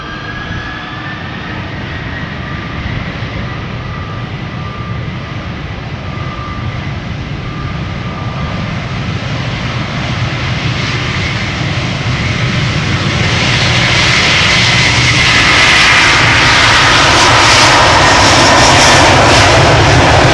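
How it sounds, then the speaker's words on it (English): A Delta Airlines jet airliner takes off at Amsterdam Schiphol Airport, its engines building from a loud steady roar with a whining tone into a louder, brighter thundering blast of thrust close by. "Delta Airlines flight 179 to Portland, Oregon is lined up"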